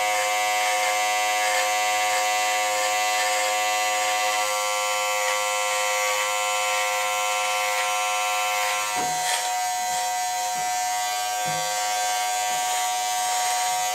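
An electric trimmer buzzes steadily up close while shaping a neckline on a bald, bearded man, its constant droning hum broken near the end by a few short scraping passes against skin, with no talk.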